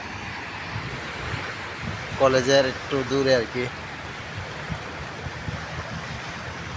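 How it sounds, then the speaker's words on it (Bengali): Small waves of the Arabian Sea lapping near a shore, a steady soft wash of surf mixed with wind noise on the microphone, with a person speaking briefly midway. "আজকে অল্প অল্প ঢেউ আর কি"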